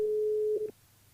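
A steady electronic telephone tone heard while dialing a listener during a live radio show, a single clean hum lasting under a second before cutting off abruptly into quiet line noise.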